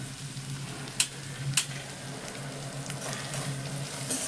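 Onion with salt frying in a pan as it is stirred, a steady close sizzle with a low hum beneath and two sharp spatula knocks early on, no talking.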